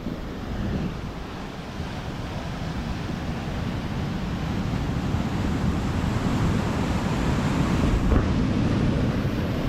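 Powerful sea waves surge onto the shore and flood toward nearby houses, producing a steady, loud roar of crashing surf mixed with wind buffeting the microphone, slightly building in strength throughout.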